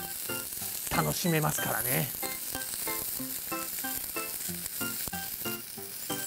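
Shrimp sear in a frying pan with a steady, close hiss of sizzling that runs throughout, while someone talks over it.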